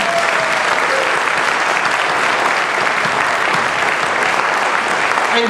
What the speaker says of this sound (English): give one more round of applause for the 2012 Ottawa High School Hall of Fame inductees